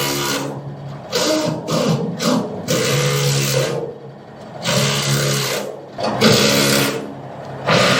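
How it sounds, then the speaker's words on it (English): A power tool tightens bolts on the roof of a steel Quonset building, producing loud, close bursts of buzzing whir, each lasting a second or two, with brief gaps between them. "he is tightening all of the bolts"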